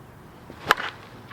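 A Phil Matte Signature one-piece limited edition Worth Bedlam slowpitch softball bat strikes a ball off a fence with a single sharp crack, a brief loud impact with a short ringing tail in quiet surroundings.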